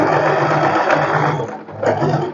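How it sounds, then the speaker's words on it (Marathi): A sewing machine runs continuously up close, stitching a fitting seam on a boatneck dress, its steady mechanical whir dipping briefly before picking up again. "आता आपण फिटिंगची शिलाई मारून घेऊया"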